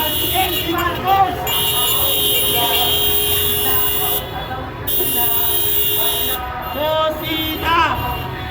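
Car horns honk repeatedly during an anti-corruption motorcade through Metro Manila, short toots scattered over a steady crowd and street din, with people shouting and talking throughout.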